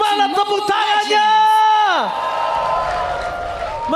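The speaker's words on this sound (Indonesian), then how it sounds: "Mana tepuk tangannya?" A packed esports arena crowd at an MPL Mobile Legends match roars and cheers, a loud swelling wash of many voices that rises after an announcer's long, drawn-out shout and carries steadily to the end.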